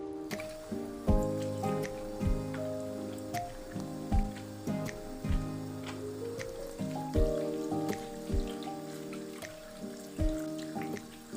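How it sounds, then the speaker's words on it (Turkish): Tap water runs and splashes as hands are washed at home, a wet dripping and trickling with soft squishy handling sounds and faint background music, fairly quiet and close. "Gelir gelmez tabii ki de ellerimi yıkıyorum."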